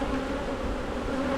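Steady, dense buzzing of honey bees swarming up from an opened hive frame, close and continuous with a sustained hum and no voices.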